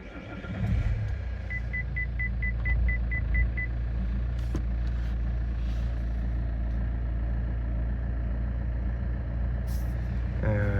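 A Saab 9-5 with the A20DTH diesel engine runs steadily in a low, constant rumble close by, with a short run of reversing-style beeps early on and a few faint clicks.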